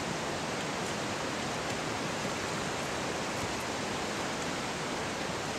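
Hot well water pours steadily from a pipe into a tub, a loud, continuous broadband rush and splash that stays even throughout with no voices.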